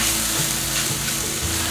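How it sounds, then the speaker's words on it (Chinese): Taro and tofu are stir-fried in a wok with vegetarian oyster sauce, sugar, white pepper and five-spice, giving a loud, close, continuous sizzle with stirring scrapes. "快速拌炒，把调味料炒均匀。"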